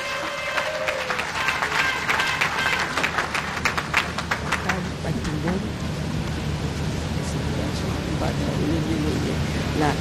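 Audience applause at an honorary doctorate ceremony at the University of Kinshasa, a dense, steady wash of clapping that runs throughout, with a voice heard over it early on.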